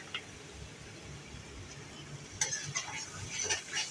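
A spoon stirs paneer curry with tomato sauce in a pan, giving soft scraping and gentle sizzling, quiet at first and then a series of louder clinks and scrapes close by.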